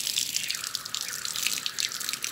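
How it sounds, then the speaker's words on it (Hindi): Tap water runs steadily over a pair of rusty antique pliers being washed, a continuous hissing splash with slight spatter and dripping, close and fairly loud, without speech. "अब हम इसे पानी से साफ कर देंगे।"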